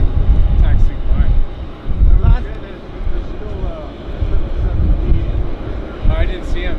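An airplane taxiing at Vancouver Airport gives a low, steady engine rumble through gusty wind noise, with people talking over it throughout.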